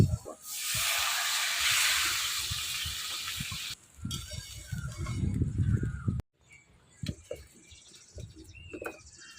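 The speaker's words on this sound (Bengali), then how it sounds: "এবার জল দিয়ে দেবো।" Water is poured into a hot pan of spices and fried potatoes for a Bengali fish curry, bursting into a loud, steady hiss of steam that fades after a few seconds into quieter bubbling and scattered clinks.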